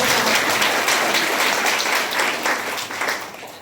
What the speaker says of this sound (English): Clap your hands and praise Him.